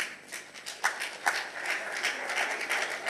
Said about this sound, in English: I don't know why that got a clap